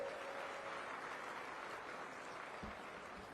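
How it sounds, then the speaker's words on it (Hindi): Faint, distant applause from a crowd at a Labour Day event in Delhi, a steady wash of clapping that continues evenly for a few seconds and slowly thins. "जोरदार तालियों से"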